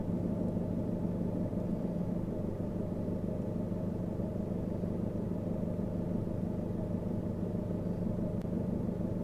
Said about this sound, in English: If you listen to the engine noise,